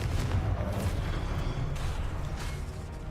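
In the Hogwarts Legacy video game, the Confringo explosive spell goes off as a few sharp, booming blasts in quick succession over a brief noisy stretch.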